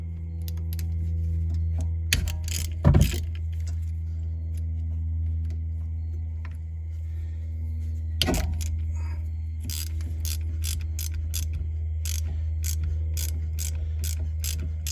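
Ratchet clicks in short bursts while loosening 5mm bolts on the rear brake motor of a 2019 Honda Civic, set against a steady low hum, with a couple of louder knocks near the start.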